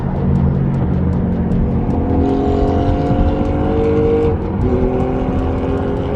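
A Porsche GT4 sports car roars past close by, its engine revving hard in a loud, sustained growl whose pitch climbs and then shifts as it goes by.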